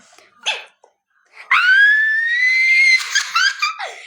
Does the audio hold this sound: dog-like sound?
yes